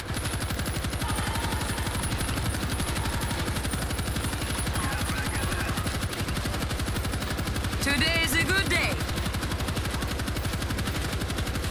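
Steady rapid machine gun fire in the zombie shooter World War Z, Moscow level on Extreme mode, a continuous loud rattle throughout with a brief scream or screech cutting in near the end.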